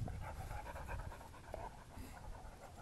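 A dog pants rapidly and steadily up close, with quick rhythmic breaths continuing throughout at moderate loudness, recorded outdoors near an RV and truck.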